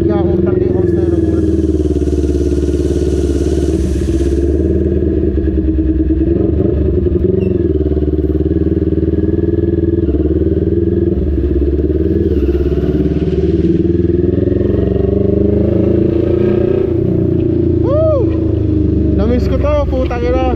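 A motorcycle engine hums steadily while riding, with rising and falling tones as it shifts, close and loud, and someone talks over it at times.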